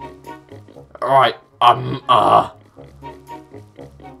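In Legend of Zelda: The Wind Waker HD, a pig gives several loud grunting oinks in short bursts, set against quieter game sounds and someone talking.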